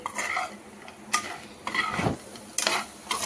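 Raw banana fry being stirred in a pan with chili powder and coriander, a spoon scraping and tapping the metal in several short strokes over a faint sizzle, close and without talking.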